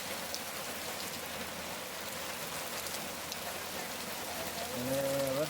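Heavy October rain falls on a farm in Gujarat, a steady unbroken hiss of drops on surfaces, fairly soft, with a brief tonal sound near the end.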